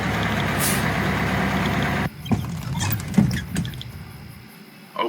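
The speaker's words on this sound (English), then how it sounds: "I heard a car from behind me. A bus and Icarus approached me." A bus rumbling up in the video game Everlasting Summer, a steady loud engine drone that cuts off abruptly, followed by irregular clunks, a hiss of air brakes and low idling.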